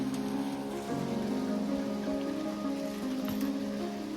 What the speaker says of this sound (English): Look at that. Lovely, lovely rain.